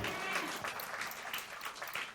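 A church congregation at a Sunday service claps in a brief, steady burst of applause, fairly faint and heard throughout.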